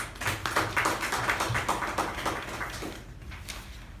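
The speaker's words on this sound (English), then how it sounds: "let us give the speaker and the evaluator a huge round of applause" Audience at a club meeting gives a round of applause, a dense patter of hand claps that is moderately close and fades out toward the end.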